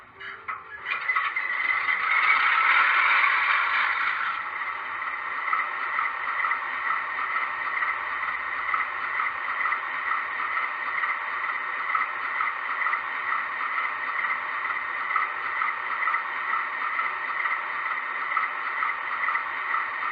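A B36-7 model locomotive runs its startup sequence: a synthesized engine hum swells over the first few seconds, then settles into a steady droning idle, alone and fairly loud.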